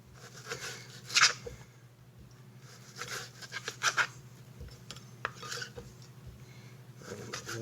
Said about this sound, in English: now we're going to start slicing our meat down to whatever the desired thickness is